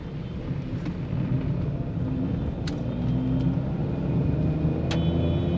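A Maruti Celerio Zxi hatchback drives along a road with its air conditioning on, giving a continuous low engine and road rumble inside the cabin with a few faint clicks and no talk.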